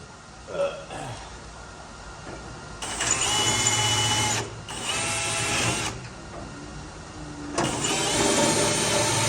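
Bursts of power drilling on the frame of a wrecked 2021 Ford Bronco being rebuilt, a loud whine running in three stretches with short pauses between, near and harsh.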